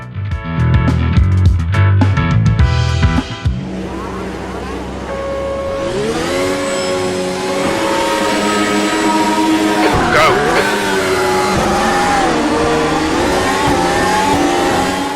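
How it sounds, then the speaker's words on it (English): Race cars launch from the start in the Automobilista 2 sim racing game, engines revving hard with rising and shifting tones as a pack of cars accelerates together, loud and continuous after a brief idle burst at the beginning. "So it is 5 green lights and a mediocre start off to the first corner"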